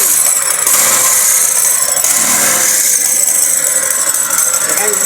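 An e-bike motor converted into a boat engine runs loud and steady with a continuous whirring drone and a bright high whine, close by, with voices talking over it.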